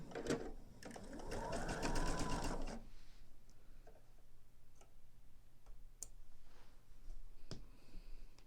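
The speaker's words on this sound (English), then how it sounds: "I'm just going to sew across this on the diagonal" A sewing machine runs a short diagonal seam across fabric for single-fold quilt binding, one close, steady burst of rapid stitching lasting about two seconds, followed by quiet room tone with occasional faint ticks.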